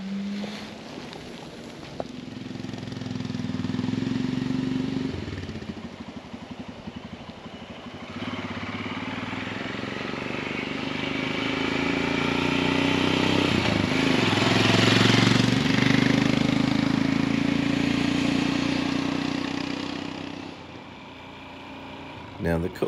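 Motorcycle ride along a Redwood coastal road, an old stagecoach route in Redwood National and State Parks, California, with a continuous engine drone and heavy wind rush that swell and fade over the ride, and speech faintly beneath.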